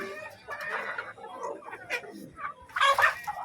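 Chickens cluck and squawk intermittently at close range on a small farm where chickens are slaughtered, with scattered bird calls and a louder burst of clucking near the end.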